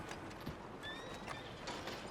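Hooves of a horse clip-clop steadily in a video game street scene, with a faint whinny and a light metallic jingle over a constant soft ambient bed.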